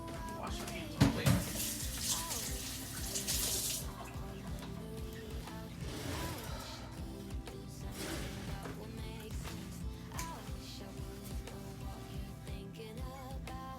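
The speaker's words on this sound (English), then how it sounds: "Wash my hands real quick." Hands washed under a running kitchen tap during cooking, a steady wash of water with a splash and clatter early on, continuing as a constant hiss under faint background noise.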